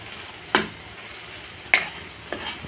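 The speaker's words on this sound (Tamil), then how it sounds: "பிரெட் அவ்வளோத்தையும் சேர்த்துக்கலாம். லைட்டாக கலந்து விட்டுக்கலாம்." Kothu bread is stirred into gravy in a pan, heard as a few soft scraping strokes of a spatula against the pan, spaced about a second apart over a faint sizzle.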